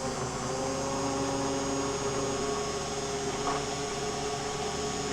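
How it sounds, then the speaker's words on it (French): Hand mixer pureeing rhubarb into a creamy fool or mousse, a steady continuous motor hum with a whirring drone held evenly throughout, close and constant with no talking. "I'm just pureeing this until it's really nice and creamy"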